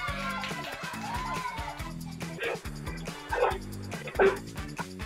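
A dog barks, yips and whimpers in short, uneven bursts close by, over a low, steady background hum.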